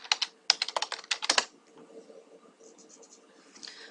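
Fast, close bursts of keystrokes on a computer keyboard run for about a second and a half, then trail off into a few faint scattered taps over low room hum.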